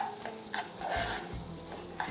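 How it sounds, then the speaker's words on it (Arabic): Rice toasting in margarine in a home kitchen pan gives a soft sizzle under clinks and scrapes of a stirring utensil, with a few brief knocks against the pot over two seconds. "نبداو نحمصوا فيه، ندو فيه ونجيبو بالمارغرين مليح."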